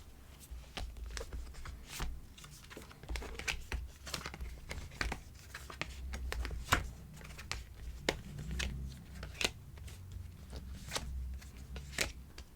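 Tarot cards being shuffled and drawn by hand, a close, quiet run of sharp papery flicks and slaps at an irregular rhythm, with soft rustling between them and no talk.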